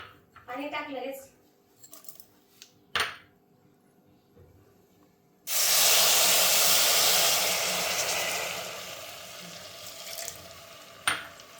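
Sugar and water hit a hot kadhai to start a syrup, breaking into a loud, sudden broadband hiss that slowly eases. Someone speaks briefly beforehand, with a few clinks of utensils.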